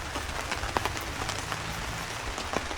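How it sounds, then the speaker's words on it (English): Heavy rain pours steadily onto a tent at Erawan in Thailand, a dense continuous patter with sharper drops landing now and then, close and even throughout. "the heavy rain started again."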